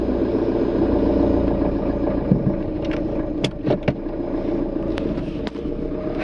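A car engine idles steadily as a learner driver slowly lets out the clutch in first gear, a continuous low hum with a few faint clicks and knocks, close and without talk.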